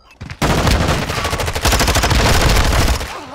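Rapid automatic gunfire from a Call of Duty: Modern Warfare II multiplayer match, starting abruptly after a brief quiet moment and continuing as dense, loud, overlapping bursts to the end.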